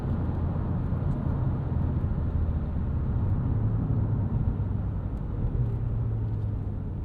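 A 2013 Ford Fusion SE sedan with the 1.6L EcoBoost engine is being driven, giving a steady, continuous low rumble of engine and road noise from inside the cabin, with no talk over it.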